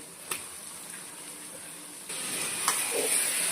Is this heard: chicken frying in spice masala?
yes